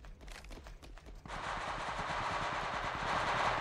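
Automatic gunfire in the battle royale game Apex Legends: quick, lighter shots at first, then a dense, sustained burst of rapid fire that keeps going, fairly close and steady.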